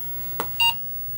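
An Apple II+ microcomputer gives a short, clean electronic beep as it begins loading from cassette audio, preceded by a faint click, heard alone against a quiet hiss.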